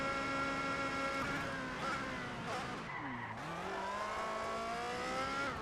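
A Ferrari 430 GT2-spec race car engine wails in Race Driver: GRID, holding a high whine, dipping sharply as it downshifts around the midpoint, then climbing again; loud, close and steady with no talk.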